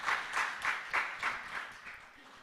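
Applause at an annual general meeting, a short burst of regular clapping from a small group that fades over about two seconds, with no talk over it.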